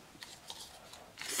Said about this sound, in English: take our fine point scissors, trim away the rat's tail